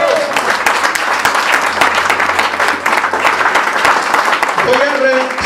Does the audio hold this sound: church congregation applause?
yes